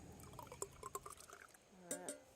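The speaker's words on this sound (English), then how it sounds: "Oh, I'm going to have to pour off some of that water." Water poured off tomato seeds in a glass jar, a soft gurgling trickle with a few small glassy clinks, fairly quiet and close.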